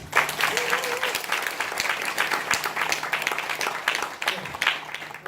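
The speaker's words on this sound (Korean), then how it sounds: "이 일곱 분한테 큰 박수 좀 하나 보내주세요" An audience at a civic forum on the 2018 local elections breaks into sustained applause, dense clapping filling the room with a few voices mixed in.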